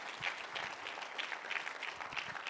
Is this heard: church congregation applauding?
yes